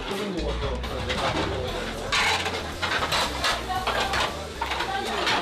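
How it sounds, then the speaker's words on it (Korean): Dishes, pots and cutlery clatter and clink in a busy guesthouse kitchen during dishwashing after a meal, a steady jumble of close clanks and scrapes heard under a narrator's voice. "식사가 시작되면 주방에서는 설거지와의 전쟁이 시작되는데요."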